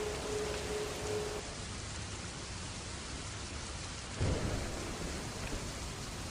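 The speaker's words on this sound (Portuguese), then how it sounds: "A chuva bate no marco da porta da janela de carvalho cortada à mão" Steady rain beats on an old hand-cut oak window frame, a dense even hiss with a low thunder rumble near the end.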